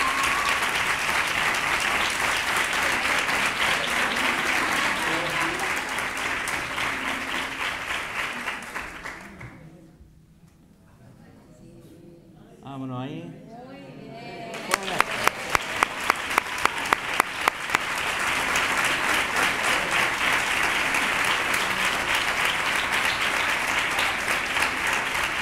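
A crowd applauds at a Three Kings proclamation in Nerva, with long stretches of loud sustained clapping. The clapping breaks off midway for a few quiet seconds with a brief voice, then resumes as strong and dense as before.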